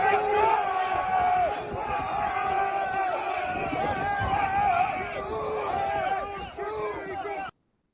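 A protest crowd outside the Confederation Building shouts and chants in a dense, continuous roar, many voices overlapping at a steady loud level before cutting off abruptly.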